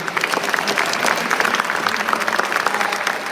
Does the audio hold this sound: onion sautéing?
no